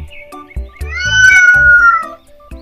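A cat meows in a long, drawn-out wail set within a children's phonics song, with musical notes around it; the meow rises and falls, loud and close.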